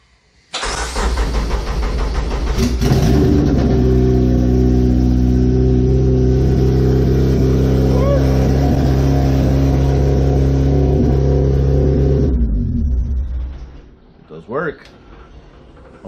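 A 1992–1995 Honda Civic engine fitted with a push-start kit cranks and catches, then runs loudly at a steady idle for about twelve seconds before shutting off; faint noises follow.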